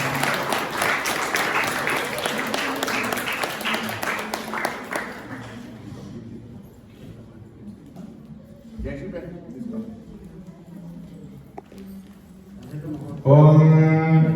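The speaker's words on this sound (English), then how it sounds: "Please clap everyone one more time." Audience applause at a Navaratri temple felicitation ceremony, a steady dense clapping for several seconds that fades into a quieter stretch with chanting voices, then a brief loud burst near the end.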